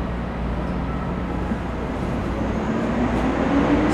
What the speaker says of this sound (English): So we're here in the train